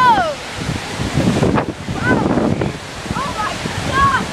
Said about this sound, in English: That is how much water they're letting out.